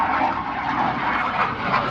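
Loud, steady roar of an F-105 jet aircraft passing overhead outdoors, a broad continuous rumble filling the whole moment without any voices.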